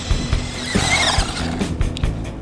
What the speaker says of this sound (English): let me drive